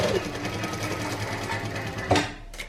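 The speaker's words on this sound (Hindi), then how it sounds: "मेरी मशीन की तो बहुत बुरी आवाज़ है।" Domestic sewing machine stitching a kameez, a rapid steady mechanical whirring and clatter that runs nearly the whole time, stopping near the end with a couple of soft clunks.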